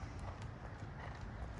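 A mare being ridden across the diagonal of a riding arena, her hooves clip-clopping in a quiet, steady rhythm against a low background rumble.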